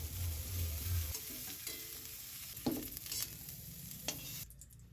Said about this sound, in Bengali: ফুলকপিটা ভালো করে ভাজা হয়ে গেলে তুলে নিচ্ছি।